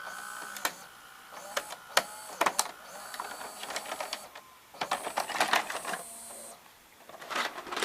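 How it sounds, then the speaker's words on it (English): A Philips Magnavox VRA670 VCR stops and ejects a tape, producing a run of close mechanical clicks, whirring motor and clunks from the tape transport, with no talk. "Let's stop, eject."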